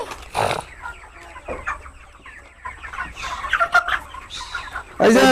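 Chickens cluck on a poultry farm raised by the fermentation method, several birds calling near and fairly loud in irregular bursts, with a sharper squawk near the end and no talk.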